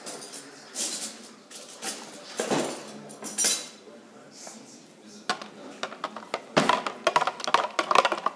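A big spoon stirs homemade slime, clinking and scraping against a bowl in irregular bursts of sticky clatter, close and fairly loud, with people talking in between.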